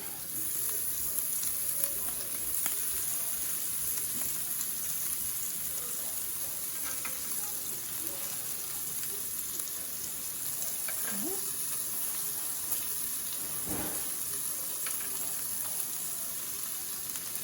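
Sausage and bacon sizzle and fry on a 17-inch Blackstone griddle with silicone egg rings, a steady crackling hiss with occasional scrapes, close and moderately loud.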